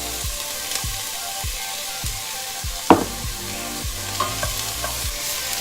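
Onions stirred as they caramelize in a pan, with a steady sizzle under regular scraping strokes of a utensil and one louder knock partway through, close and continuous with no talking.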